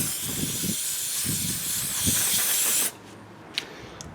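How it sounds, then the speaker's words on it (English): Brake cleaner sprays from an aerosol can onto the outside of an older Toro lawn mower carburetor, a steady close hiss lasting about three seconds, followed by quiet handling sounds. "Take a little brake cleaner and clean this up on the outside."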